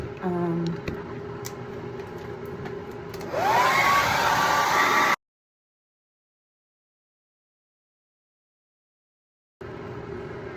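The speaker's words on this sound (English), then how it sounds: "I'm gonna try to blow dry it and see what that does" A hair dryer blow-drying a wet makeup sponge, a loud, steady close whir that rises as it speeds up, running for a few seconds before cutting out to silence and then resuming.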